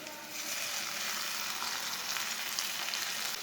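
Finely chopped tomato goes into a pan where ginger and garlic are frying, for chicken pota: a soft, steady sizzling hiss that continues evenly, with no voices.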